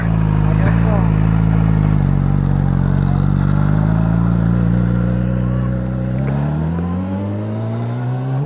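Sport motorcycle engine idling and revving close by at night, a loud steady low drone that swells and shifts pitch toward the end, with people talking over it.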